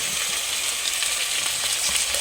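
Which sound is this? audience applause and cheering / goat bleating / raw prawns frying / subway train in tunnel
raw prawns frying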